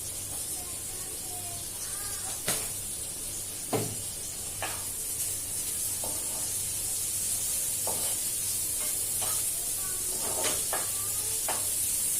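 Bitter gourd frying in hot oil in a home kitchen, a steady sizzle and hiss with occasional sharp clinks and scrapes of a utensil, fairly close, no one speaking.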